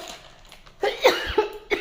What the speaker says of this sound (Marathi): मला ना खोकला येतो रात्रीपासून